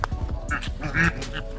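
Swans honk in short, nasal bursts at Jhargram zoo, a few quick calls close together with a louder one in the middle.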